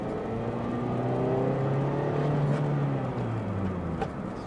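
A Chevrolet Aveo UVA LT pulls in second gear from around 4000 rpm with the air conditioning off, its engine note climbing steadily under a continuous road rumble heard from inside the car.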